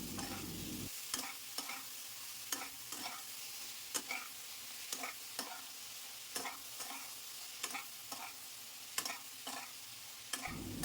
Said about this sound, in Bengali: নুন চিনি আর কাশ্মীরি গুঁড়ো লঙ্কা ঝিঙের সাথে খুব ভালো করে মিশিয়ে নেব